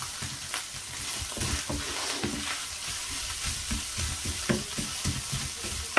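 Minced meat with onions sizzles steadily in a hot pan while a utensil scrapes and breaks it into smaller pieces, giving scattered soft knocks and stirring scrapes over the continuous frying hiss, with no voices.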